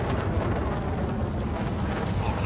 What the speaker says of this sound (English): I'm hitting them with cannons too, which doesn't help.